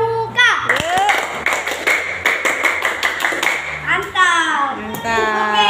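Elementary school scouts clap in a sharp unison pattern of quick taps near the mic, with children's voices shouting and talking before and after the claps.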